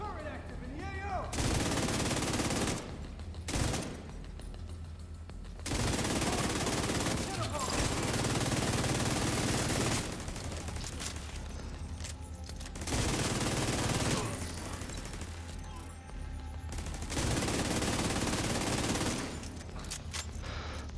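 An automated turret in The Division 2 fires long, loud bursts of gunfire in several separate volleys, with short quieter gaps between them and occasional voices underneath.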